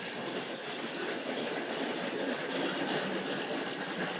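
A Tri-ang model train, an R.59 tank locomotive hauling R.211 Shell lubricating oil tank wagons, runs steadily along a layout track with a continuous close rolling rumble and no talk.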